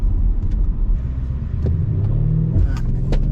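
A 2021 Audi RS6 Avant engine rumbles deep and close, with a brief rise in revs partway through and small clicks and knocks over the steady low drone.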